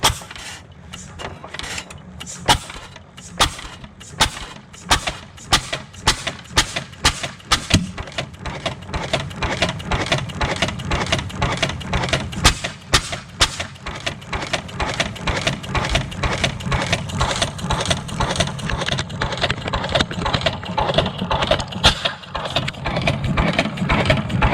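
A 6 HP IHC Famous hit-and-miss stationary engine runs close by. Sharp, evenly spaced firing beats come first, then settle into a steady, rapid chugging rhythm.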